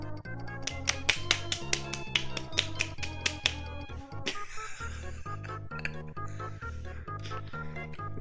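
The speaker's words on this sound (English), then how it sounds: "You can stop clapping now! Stop clapping the air!" Rapid rhythmic clapping in a Roblox game, a steady run of crisp claps over a looping melodic music track with a bass pulse, briefly broken by a burst of noise before the claps resume.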